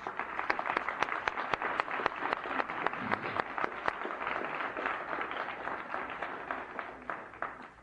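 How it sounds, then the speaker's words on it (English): Audience at a panel event on equality for Black Americans applauds: dense, continuous clapping from a moderately distant crowd, steady for several seconds with scattered sharper claps standing out. "suggest that we have a word of applause for Donna and her colleagues"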